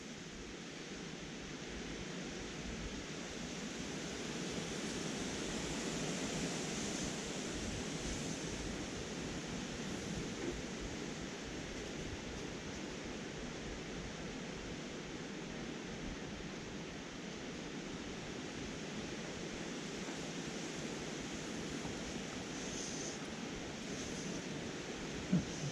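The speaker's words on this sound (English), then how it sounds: "Oh, it's wind. Wind is not making life easy today." Steady wind buffeting the microphone beside the River Yeo, a continuous broadband rush with slight gusting swells, close and fairly loud throughout with no talking.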